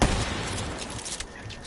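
Gunfire in the zombies mode of Black Ops 3, a short burst of dense rapid shots blending with booming noise, with a voice talking over it.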